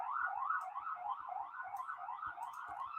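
Distant emergency sirens wail in a repeating rising-and-falling pattern outside a room, faint but continuous, with small knocks and clicks nearby and no talk.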